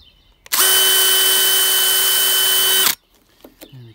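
A power drill runs steadily for about two and a half seconds, a loud high whine that starts and stops abruptly, drilling holes for high-vis roof lights.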